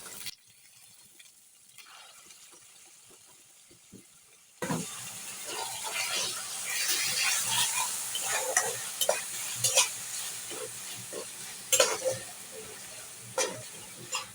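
Ginger-garlic paste hits browned onions in a pan for a beef curry. After a few quiet seconds the sizzle jumps up loud, with repeated close spoon scrapes and clacks as it is stirred.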